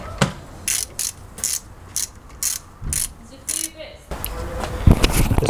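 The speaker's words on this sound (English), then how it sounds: "And to get that off, we need to loosen this nut." A ratchet with a 13mm socket loosens the alternator belt nut on an MK2 Golf 16V, giving several short bursts of close clicking strokes separated by brief pauses, with other faint workshop sounds.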